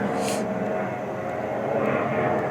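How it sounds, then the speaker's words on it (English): An airplane passes overhead, a steady broad engine roar that stays fairly loud and continuous throughout, with no talking over it. "while you hear that plane activity"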